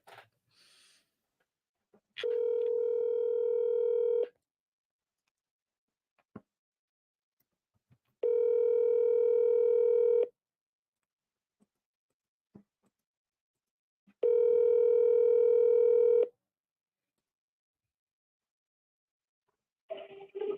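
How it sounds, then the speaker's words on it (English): Ringback tone of a telephone while placing a call, three steady two-second tones separated by about four seconds of silence, clear and alone with small clicks between. "I'm double dialing this guy."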